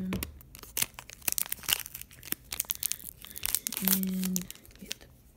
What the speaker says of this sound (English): I think I'll do the Incineroar pack. Just cut it open.